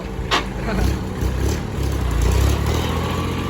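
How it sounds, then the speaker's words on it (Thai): A small farm tractor engine runs hard inside a tractor repair garage, giving a loud, steady, rough roar that swells slightly as it revs. "รถไถเล็กของเรา"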